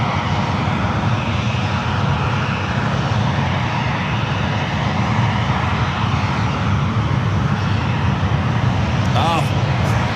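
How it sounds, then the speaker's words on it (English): A United Airlines Boeing 777 arriving from Newark at San Francisco airport produces a loud, continuous, low engine roar, with a brief voice near the end. "Next arrival is United Airlines Flight 1227 coming in from Newark at 777 at 200."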